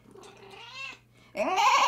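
A cat meows twice, a thin drawn-out cry followed by a louder, harsher wail, close by with no talk over it.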